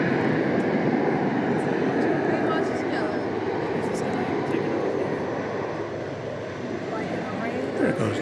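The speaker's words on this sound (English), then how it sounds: "There goes the Trijet." A trijet airliner passes at DFW Airport after dark, giving a loud, sustained engine rumble and roar that swells and slowly eases, with voices talking over it.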